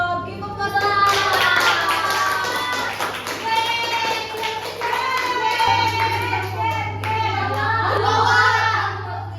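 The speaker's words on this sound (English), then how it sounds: "Give applause." Classroom applause during a microteaching session: scattered hand clapping from students runs throughout, mixed with children's voices talking and calling out over a steady low hum.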